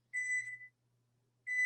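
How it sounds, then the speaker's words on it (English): Kitchen timer being switched off, giving two short, clean electronic beeps separated by a brief pause, near and fairly quiet over a faint hum. "I'm just going to turn off my timer"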